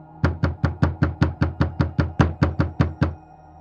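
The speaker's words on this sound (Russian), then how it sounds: "В этот раз стук был достаточно громким, чтобы затряслась дверь." Thirteen loud, evenly spaced knocks on a door in a quick steady rhythm, close and alone, as a horror story sound effect.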